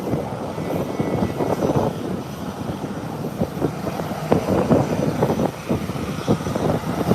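A Cessna Citation business jet departs from Howard Hamilton International Airport with a steady, rumbling engine roar that stays moderately loud throughout, with no talking over it.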